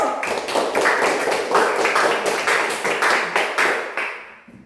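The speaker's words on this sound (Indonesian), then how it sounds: "berikan tepuk tangan untuk kelompok satu." An Indonesian school class claps for group one, a burst of rhythmic, fairly close hand clapping in quick repeated strokes that swell and then fade to quiet at the end.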